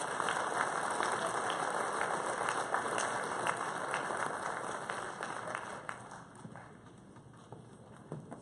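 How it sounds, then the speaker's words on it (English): A crowd applauding at a 2018 Claysburg-Kimmel varsity athletic ceremony, a steady wash of clapping in a large room that gradually softens and thins toward the end. "If we could give them all one more round of applause."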